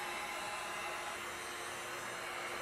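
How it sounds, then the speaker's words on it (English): A heat gun blows hot air across bubbled wood veneer on furniture being restored. Its steady, even whooshing drone runs throughout with no change in level and no voices. "take and run the heat gun across the wood that is bubbled up"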